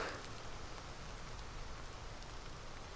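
Steady, dense rainfall hisses evenly on surfaces, a continuous wash of patter with no voices.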